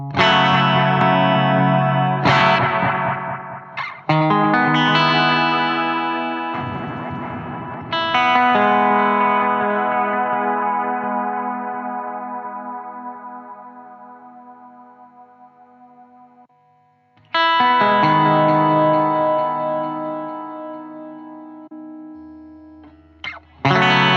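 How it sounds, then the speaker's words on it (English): Guitar played through a Hotone Ampero Mini multi-effects unit with delay: sustained chords and notes ring out, repeating and slowly decaying over long tails, with fresh strums cutting in, loud and clean with no talking. "Let's try some delay."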